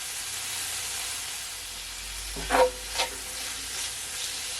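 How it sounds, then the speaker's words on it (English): Pepper steak ingredients for a Jamaican pepper steak sauté in a hot pan with a steady soft sizzle and hiss, broken by a couple of brief louder stirring scrapes near the end. "I'm just gonna allow it to saute, guys, for at least 10 seconds"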